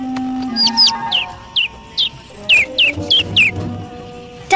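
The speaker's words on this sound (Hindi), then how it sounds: "ओह, एक नन्हा सा पंछी।" A small cartoon bird chirps in a rapid series of short, bright tweets, close and fairly loud, over soft background music.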